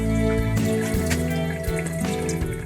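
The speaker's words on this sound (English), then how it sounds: "This is my hot water heater draining." A Crown MS40 hot water heater drains steadily, water gushing and splashing in a continuous close, loud rush with no talking.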